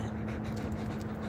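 Big old dog panting steadily in a room, a quiet, continuous breathy rasp over a low background hum with no talk.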